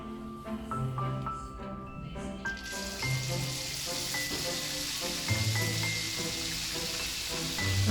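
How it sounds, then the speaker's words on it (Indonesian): Coconut frying in oil for Sundanese gepuk, a steady broadband sizzle that holds for the whole stretch at close range, with no voices over it. "Setelah menggoreng daging, kita lanjut akan menggoreng kelapa."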